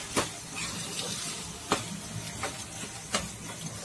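Carrot halwa with sugar is stirred in a pan, with a soft background sizzle broken by periodic scraping strokes of the spoon, a handful of sharp clicks spaced about a second apart.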